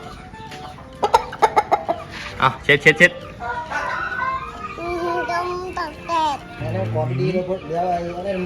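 A chicken being caught clucks and squawks in a burst of sharp, loud calls, then the voices of children talking excitedly carry over and between further clucks.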